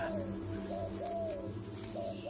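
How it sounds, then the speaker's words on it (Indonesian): Turtledove cooing in soft, repeated rounded calls, a few coos in a short run, heard faintly at a distance against a quiet background. "Bunyi tekukur terdengar di tanah kita."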